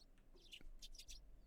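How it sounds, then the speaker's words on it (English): Birds chirp in the Higurashi When They Cry video game, a few short, quiet high tweets in quick succession over a near-silent background. "The chirping of birds served as my alarm clock."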